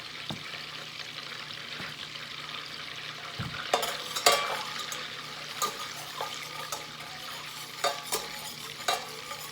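Butter sizzling in a pan while making caramel sauce, a soft steady fry with a few louder clinks and stirring scrapes scattered through, no talking.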